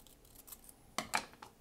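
A paper card tag is cut, with two crisp, close snips in quick succession after a quiet moment and a fainter rustle just after.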